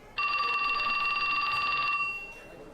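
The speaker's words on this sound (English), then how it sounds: "As he was slipping his laptop back into his bag, his cell phone rang." A cell phone rings in the video game 428 Shibuya Scramble, one steady trilling electronic ring lasting nearly two seconds, loud and close, then cutting off.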